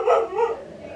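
A pet dog giving a loud, close bark that trails into a whiny yelp, lasting about a second, with nobody talking over it.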